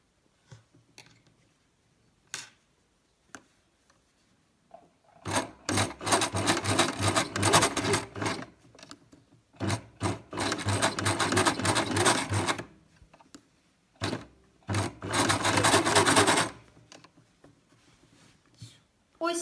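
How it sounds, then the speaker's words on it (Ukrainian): A domestic sewing machine runs a line of stitching along the edge of a facing while a blouse is sewn, in two long loud bursts and then shorter ones, with light handling clicks and rustles in the quieter gaps. "Зараз прокладаємо строчку по краю обтачки так, щоб вона перекривала попередню строчку на 1 мм."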